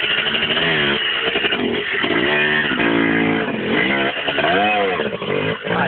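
A motorcycle engine revs loudly and close, its pitch rising and falling in repeated surges over a steady raspy drone, with no talk.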